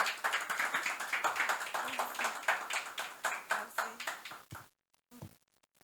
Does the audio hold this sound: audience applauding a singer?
yes